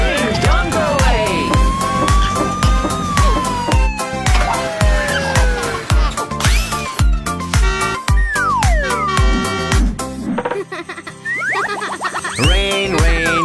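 A cartoon police car siren rings out loud and continuous in a children's toy-vehicle cartoon, with wailing, sweeping tones and bouncy boing effects layered over a busy, rhythmic music track.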